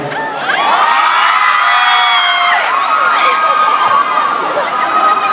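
A live stage-show audience screams and cheers loudly and continuously, shrill high-pitched voices blending into a sustained roar with some whoops rising above it.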